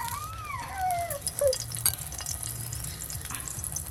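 Egg-coated eggplant slices fry in oil over low heat with a steady, soft sizzle, while a cat meows a few times early on, close to the pan.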